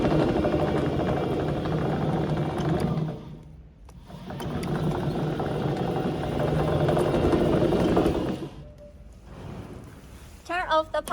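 A remote control tracked chassis motor hums steadily in cruise control, a mechanical whine with two brief drops in level, close and fairly loud, ending with a few clicks.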